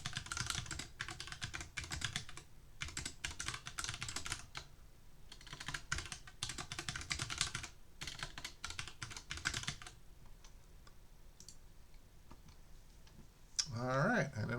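Rapid clicking keystrokes on a computer keyboard come in bursts with short pauses, fairly close and moderately loud, then fade into quieter room tone before a brief louder noise at the end.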